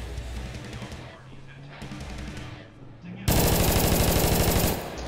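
Rapid bursts of automatic gunfire in the video game Garbageman, a couple of rattling volleys followed by a louder sustained stream of shots, with people talking over the action.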